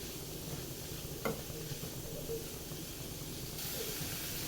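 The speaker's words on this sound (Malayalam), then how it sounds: "ഇനി നമുക്ക് എണ്ണയിലിട്ട് ഉള്ളി നല്ലപോലെ വഴറ്റിയെടുക്കാം." Sliced onions sauté in oil with a soft, low sizzle, broken by a brief stirring scrape near the start; the whole sound stays quiet and close, with no talking.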